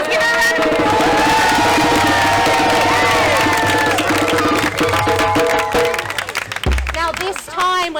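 An audience at a storytelling session during a tribal gathering erupts in loud cheering, shouts and clapping, a busy crowd roar with whoops that thins out toward the end.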